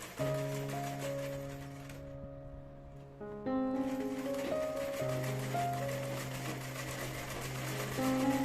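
A sewing machine runs steadily while stitching a neck binding strip onto a frock, a loud, close, continuous whir with a brief pause partway through before the motor picks up again.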